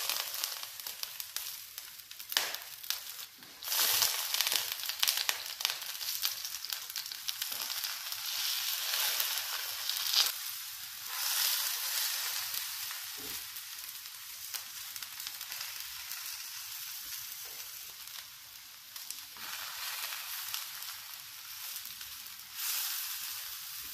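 Zucchini slices fry in oil in a pan, crackling and hissing in uneven bursts that swell and fade over a long stretch, close and fairly quiet with no voices.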